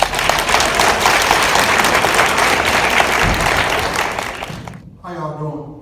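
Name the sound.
audience applause for spoken word artist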